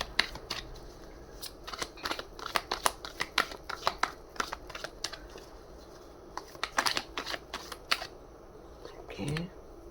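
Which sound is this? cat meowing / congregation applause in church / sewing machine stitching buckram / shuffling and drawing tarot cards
shuffling and drawing tarot cards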